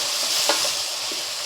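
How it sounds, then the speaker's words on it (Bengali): Onion and tomato frying in a pan with salt for a Bengali mutton curry, a steady close sizzle with a brief stir or scrape partway through, no voices. "পেঁয়াজ আর টমেটোটাকে ভালো করে একটু ভেজে নেব"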